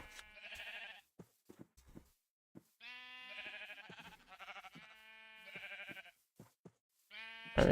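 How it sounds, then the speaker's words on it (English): Sheep in the Minecraft modpack GT:NH bleating in several separate wavering calls with short gaps between them, fairly close and clear, mixed with faint clicks and taps from game actions. "Yeah, I'm trafficking sheep."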